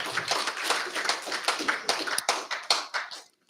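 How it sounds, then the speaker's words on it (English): Scattered applause for a speaker at a Pacific cultural speech event, made of sparse individual claps from a small group close by, fading out at the end. "Another round of applause for Nora Whamulmuli lava."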